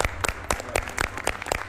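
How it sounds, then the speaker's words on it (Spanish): An audience claps in a quick, fairly even rhythm of distinct close handclaps, moderately loud and without talk. "se merece un aplauso el doctor Mardones."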